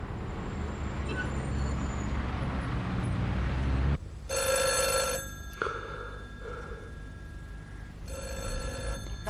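A telephone rings in a domestic drama scene, with repeated loud electronic bursts after a low rumbling start and a pause between rings. No one answers it.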